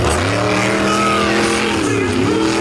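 A monster truck with a broken left rear axle races across the sand at a beach event, its engine holding a loud, steady roar that bends in pitch partway through and stays close and dominant throughout.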